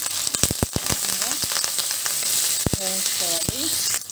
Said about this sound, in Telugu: ఇప్పుడు మనము కరివేపాకు కూడా ఇందులోనే వేసి మంచి సువాసన వచ్చే వరకు వేయించుకుందాము